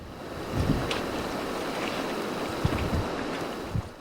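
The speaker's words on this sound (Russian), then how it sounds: "Дует юго-западный ветер." South-west wind blowing across the open sea during a motorboat trip, heard as a steady broadband rush with light wave wash and a few soft thumps, no voices.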